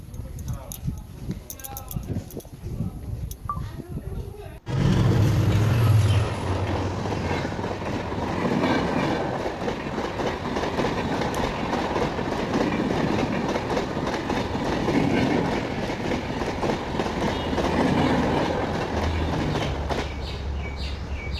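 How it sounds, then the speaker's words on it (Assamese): A passenger train pulling into platform 2 of a station, running 45 minutes late, with a loud, steady rumble and clattering wheels close by for most of the clip after crowd chatter and voices at the start. "45 মিনিট দেৰিকৈ ট্ৰেইনখন আহিলে।"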